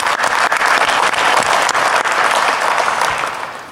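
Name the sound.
audience applause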